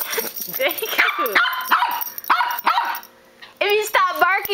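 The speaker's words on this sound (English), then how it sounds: "If you stop barking, maybe he won't bite you." A dog barks and yips repeatedly in quick bursts, close by, mixed with excited whimpering and a person speaking.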